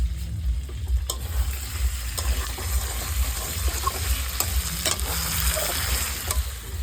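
Mutton cooking in a pan, sizzling steadily while being stirred, with scraping strokes recurring through a continuous close frying hiss and a low hum underneath.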